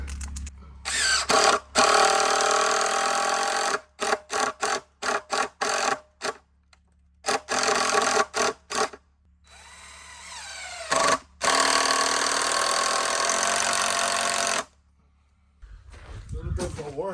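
Power drill boring holes on a farm, a series of loud, short bursts of whirring broken by pauses, with one longer sustained run, and someone talking in between.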